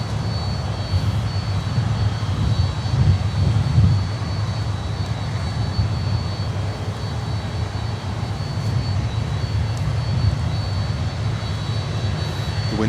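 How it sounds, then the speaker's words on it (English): Jet engines of a LATAM Cargo freighter spool up and rumble steadily at an airport, a broad low roar with a faint high whine, moderately loud and continuous throughout, with wind noise and no talking. "Latam Cargo, the sound machine is getting ready"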